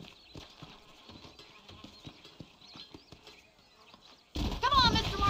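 Horse hooves clip-clop on the ground in the Western video game Red Dead Redemption, a steady patter of hoofbeats under music and talk, ending in a louder burst of noise.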